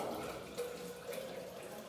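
Deionized water poured into a measuring cylinder during a chemistry practical, a faint, steady trickling stream heard quietly in a calm room, with no talking over it.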